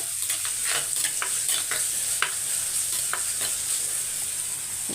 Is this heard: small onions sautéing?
yes